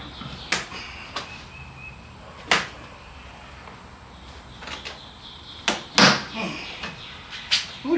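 An electric power door lock on a Jeep JK door resting on a table, giving several sharp irregular clicks and clacks at close range, separated by quiet gaps.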